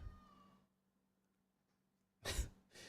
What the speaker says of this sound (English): Y'all hear my cat yelling? He's hungry.